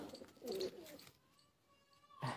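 Pigeons coo in a low, soft, throaty tone held through the middle of the clip. Rougher bursts of bird sound come before it, and another short call ends it.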